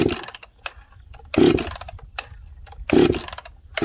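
A freshly port-worked Husqvarna 262XP chainsaw is pulled over repeatedly, giving short rasping bursts of cranking in an uneven rhythm without settling into a steady idle.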